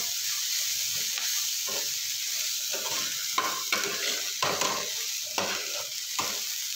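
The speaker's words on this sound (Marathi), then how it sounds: "आणि आता कांदा वगैरे मिक्स करून चांगली फ्राय होऊ द्यायची." Dried shrimp and onion fry in hot oil in a pan, giving a steady close sizzle. Repeated scraping strokes of a spoon stirring them rise above the sizzle in short bursts.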